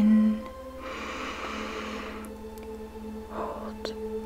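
A slow, deep inhaled breath during a guided stress-relief meditation, a soft airy rush lasting about a second under a quiet hum, then a shorter breathy sound near the end.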